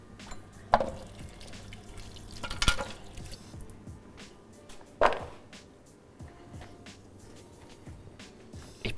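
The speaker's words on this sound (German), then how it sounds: "Die schäle ich auch nicht, sondern die wasche ich einfach nur ganz wild." Organic carrots being washed by hand under a running tap at a kitchen sink, with soft water flow, scattered drips and a few sharp splashes or knocks against the sink.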